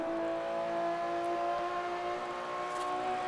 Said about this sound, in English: Car does sound pretty good going through the tunnels